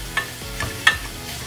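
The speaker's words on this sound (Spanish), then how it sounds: "colocar un poco de azúcar, un poco de sal y estar mezclando continuamente hasta que se caramelice." Onion caramelizing with sugar and salt in a pan is stirred in three distinct scraping strokes over a soft, continuous sizzle, close and fairly quiet.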